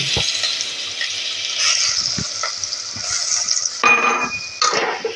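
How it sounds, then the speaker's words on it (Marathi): Crushed garlic dropped into hot oil for sweet mango pickle sizzles loudly and steadily, with scattered clinks and stirring scrapes from the pan, no voices. "या आता मी टाकीन यातला ठेचलेलं लसूण."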